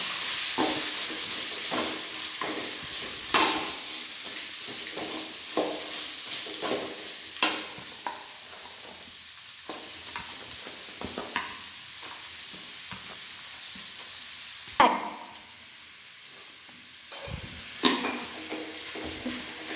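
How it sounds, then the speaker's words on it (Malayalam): Onions sautéing with ginger garlic paste for a Kerala chicken roast, a steady low sizzle broken by repeated spatula knocks and scrapes on the pan, close and fairly quiet. "ഇഞ്ചി വെളുത്തുള്ളി പേസ്റ്റ് നന്നായിട്ട് മൂത്ത് വന്നിട്ടുണ്ട് അതിലേക്ക് സവാള ചേർക്കും"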